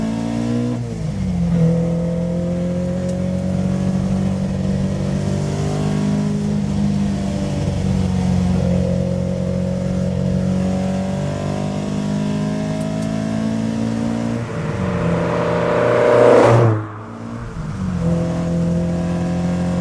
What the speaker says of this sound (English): let's take it through the gears.